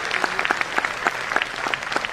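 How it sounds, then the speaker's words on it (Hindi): Audience applause at a network marketing event, a brisk run of claps with sharp distinct hits across the whole stretch, moderately close and steady without voices. "तो एक बार जोरदार तालियां इस इवेंट के लिए,"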